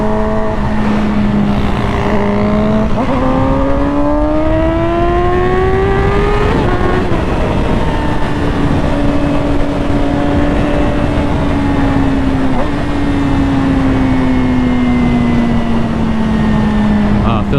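A motorcycle engine hums steadily while riding, its pitch rising and then easing through gear changes, loud and close with wind noise, as a rider's voice is heard over it.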